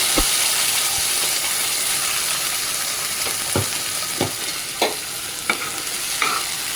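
Spice paste added to hot tempering for paneer matar, giving a continuous loud sizzling hiss with a few sharp stirring scrapes and taps near the end, heard close and with no voices.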